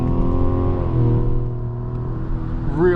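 A 2025 Mazda CX-70 Turbo engine pulls hard in third gear, a loud, steady harmonic drone that rises slightly in pitch, heard from inside the cabin.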